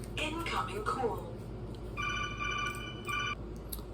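A phone rings with an incoming call, a repeated electronic ringtone in two short bursts, heard at moderate volume in a room after a person speaks.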